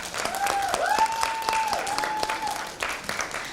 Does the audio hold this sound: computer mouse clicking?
no